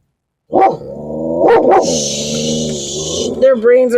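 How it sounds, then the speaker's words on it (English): A dog barks loudly and close beside a van, a burst of sharp barks and growly yelps with a hissy noise partway through, mixed with what sounds like speech. "let's just walk the dog right next to the van to set off that other dog"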